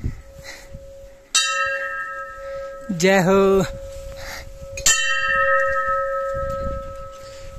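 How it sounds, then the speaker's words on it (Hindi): A metal temple bell at the snowy hilltop Surkanda Devi temple is struck twice, each clang ringing out and slowly decaying, while a man briefly chants between the strikes. "ये बजी घंटी अच्छे से।"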